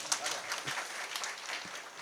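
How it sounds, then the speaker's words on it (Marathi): An audience clapping for the singers and musicians at a kirtan, a dense, steady spread of applause from a crowd, moderately distant and fairly soft, with some voices underneath. "एकदा गायक वादनासाठी टाळ्या वाजव महाराज"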